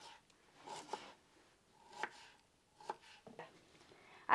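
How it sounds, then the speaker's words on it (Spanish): A knife chops onion into rings on a board, with irregular soft thuds and cuts spaced through a quiet room, close and fairly faint. "yo voy a partir la cebolla, así miren, por la mitad. Y así en rueditas. Así la voy a picar toda."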